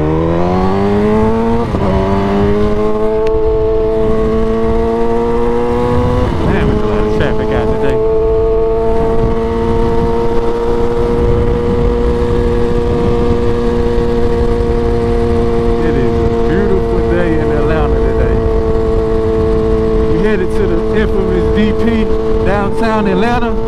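A steady motorcycle engine drones throughout with sustained harmonic tones, shifting pitch as the bike changes speed on Atlanta city streets, loud and close.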